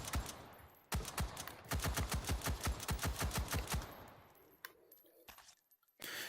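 Rapid automatic rifle fire in the VR shooter H3VR, a loud burst of closely spaced shots followed by a second sustained volley, then fading into quieter clicks and mechanical handling noises.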